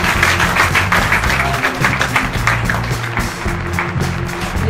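An audience at the Leone dei Dogi Biennale award ceremony applauds an artist, steady dense clapping throughout with a faint murmur underneath.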